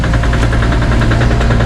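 A loud, steady diesel site dumper engine chugs and rumbles close by on a garage build site, with a knocking low-end throb and constant vibration, no voices.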